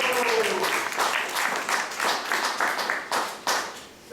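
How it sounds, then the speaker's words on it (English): Irregular clapping from a modest audience at a Sunday class in an ISKCON temple in Atlanta, with individual claps audible and a voice briefly at the start. "Let's give a round of applause for them."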